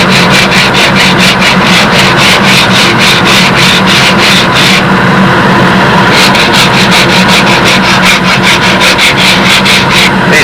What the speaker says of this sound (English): while it's being sanded, sand it with a flat support underneath it